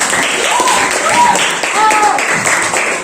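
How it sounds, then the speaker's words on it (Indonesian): A classroom group applauds a student presenter after a discussion report, brisk clapping running throughout with voices and a faint tonal whistle-like sound mixed in. "Beri tepuk tangan untuk Kalisa dari kelompok"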